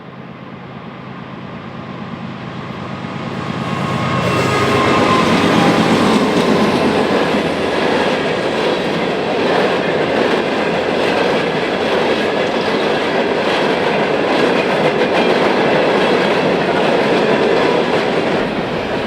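Norfolk Southern freight train B09 with SD70M-2 locomotives rolls by on the Chicago line in LaPorte County, swelling into a loud, close, sustained rumble with steady wheel clatter and rail noise.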